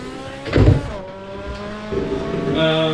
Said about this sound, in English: I can hear the engine noise quite loudly